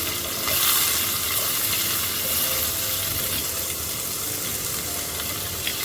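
Bay leaf, whole cumin and onion sizzle steadily in hot oil in a pan, a close, continuous crackling fry with faint clinks and stirring, no voices.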